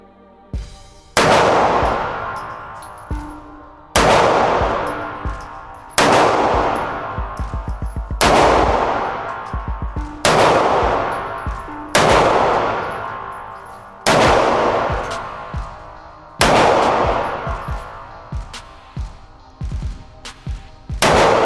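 Pistol shots at a shooting range from a gun fitted with a grip module, fired at close range as eight loud, sharp reports spaced a couple of seconds apart, each followed by a long ringing decay, with faint clinks between.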